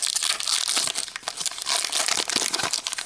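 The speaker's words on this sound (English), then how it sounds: "Let's do our little unboxing, opening of the card packs." Pokemon TCG card packs from the XY Mega Charizard collection are torn open with dense, continuous foil crinkling and ripping, close and fairly loud throughout.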